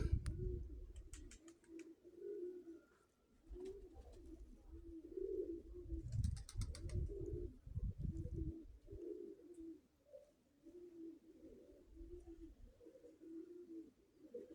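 Domestic pigeons at a Ukrainian pigeon keeper's loft coo in steady, repeated low rolling phrases throughout, fairly close, with brief rustling and wing noise mixed in.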